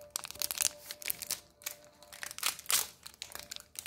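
A bar of Mexican soap is unwrapped from its packaging up close, with irregular plastic crinkling and crackling bursts over a few seconds.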